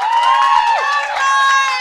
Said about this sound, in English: on the count of three, get really, really hype, okay? Clap as hard as you can.